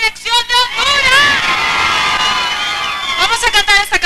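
A live crowd at a Honduras national team World Cup caravan event shouts and cheers in a loud, sustained roar, with high voices and whoops swelling together and holding for several seconds before breaking into scattered yells.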